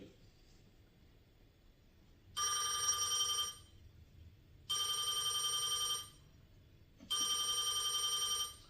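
A telephone bell rings three times in long, evenly spaced bursts, clear and fairly close, with quiet pauses in between.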